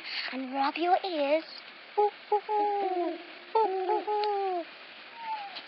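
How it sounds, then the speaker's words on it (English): Owls calling at night in a calm setting, a series of soft wavering hoots and cooing notes repeating in short phrases, with a voice speaking over part of it. "The sound of the owls."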